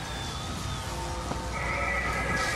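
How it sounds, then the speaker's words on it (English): Horses in the video game Bioshock Infinite neigh and whinny in a few drawn-out calls over a steady ambient game backdrop, moderately loud with no talking. "Oh, those horses aren't creepy at all."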